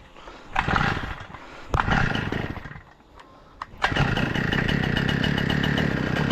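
A brush cutter's small two-stroke engine, choke still on, sputters and roars in short bursts, dips, then catches into a loud, steady running drone up close, with no talking.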